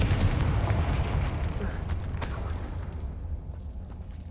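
A Confringo fire spell explodes in Hogwarts Legacy, a loud boom that rumbles and decays over a few seconds, followed by faint crackling debris.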